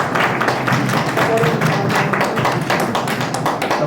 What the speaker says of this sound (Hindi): एक बार जोरदार तालियों से